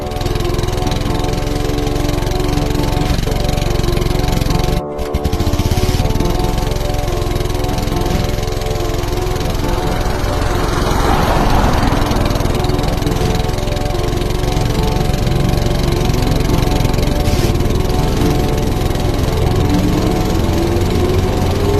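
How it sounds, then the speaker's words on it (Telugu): A steady, continuous drone of vehicle engines on a busy highway at night, loud and unbroken throughout, with no one talking. "అది హైవే, వాహనాలతో రద్దీగా ఉంటుంది."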